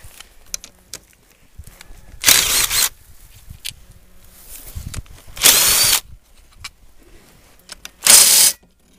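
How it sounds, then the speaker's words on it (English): An impact driver runs in three loud, hammering bursts of about a second each on a ranch, with quieter handling noises and shuffling in between. "Got my favorite tool there, my trusty Impact."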